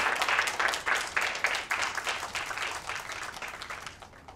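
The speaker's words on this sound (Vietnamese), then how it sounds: "Mọi người hãy vỗ tay cho cậu ấy đi." Audience applause during a scene in a romantic drama series, a crowd clapping in rhythmic bursts that gradually fade, with no speech over it.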